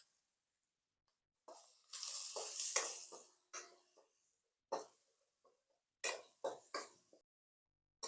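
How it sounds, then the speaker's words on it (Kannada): Vegetables frying in a pan with salt for egg noodles, heard as short bursts of hissing sizzle and stirring, separated by near-silent gaps, close and fairly quiet. "ಇವಾಗ ಕಂಪ್ಲೀಟಾಗಿ ಫ್ರೈ ಆಗಿದೆ."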